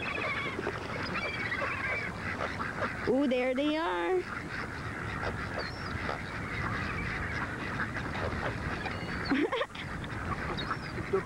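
Geese honk repeatedly while being fed in December, the calls rising clearly above steady outdoor background noise. A nearby voice speaks briefly and a second honk follows later.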